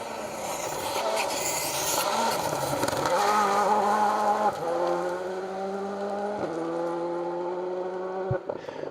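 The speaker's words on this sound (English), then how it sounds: "Pete Gorst and Mark Twynham, they come here in their Mitsubishi Evo 9" A Mitsubishi Evo 9 rally car on a BTRDA rally stage revs hard and shifts up through the gears with abrupt breaks between pulls, loud and fairly close, then fades slightly as it moves on.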